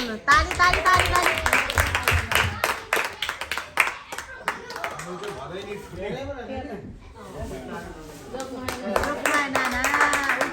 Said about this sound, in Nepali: ताली ताली ताली ताली